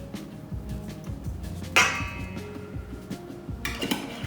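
Parmesan cheese, garlic and Italian seasoning are mixed in a bowl, giving soft, repeated clinks and light scrapes of a utensil against the dish, with two brighter knocks standing out.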